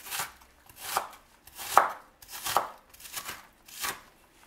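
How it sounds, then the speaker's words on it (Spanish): A knife chops onion on a board, a soft rhythmic series of about six muffled thuds with slight scraping swishes, close and steady, with no talking. "Ahora vamos a picar la cebolla."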